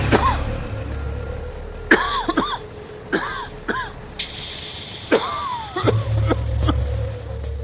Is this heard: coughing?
yes